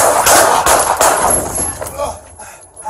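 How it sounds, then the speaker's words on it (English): San Bernardino police bodycam capturing several sharp, loud gunshots fired in quick succession at a knife-wielding suspect, followed by a quieter tail with voices in the background. "shots fired"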